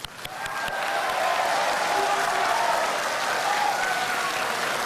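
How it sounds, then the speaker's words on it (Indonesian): A crowd at an Indonesian presidential candidates' debate breaks into steady applause that swells within the first second and keeps going evenly, a dense wash of clapping hands. "Anda silakan tepuk tangan."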